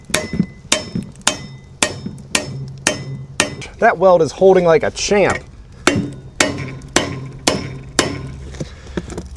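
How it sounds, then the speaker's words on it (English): Repeated loud metallic hammer strikes ring out at a steady pace on a steering joint of a 1969 MGB, pausing briefly while someone speaks, then resuming the rhythmic blows. "the proper way to do so is probably not with a hammer, but that's what we're gonna do"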